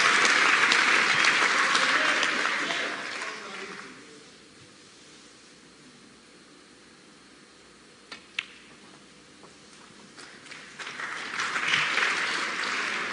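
A large crowd at a snooker match in the Guildhall breaks into loud, sustained applause that fades to a hushed murmur with a couple of sharp clicks, then swells again into strong clapping.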